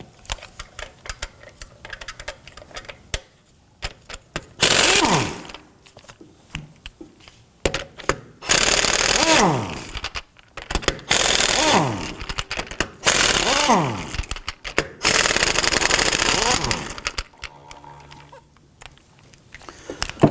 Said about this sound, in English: Using a thin wall 19mm socket, we're going to go ahead and loosen and remove our lug nuts here.